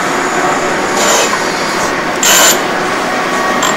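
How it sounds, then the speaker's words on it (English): A surface grinder shaves metal in a machine shop, giving a steady close grinding hiss with brief louder bursts of scraping, with no talk over it. "Man's working on the surface grinder."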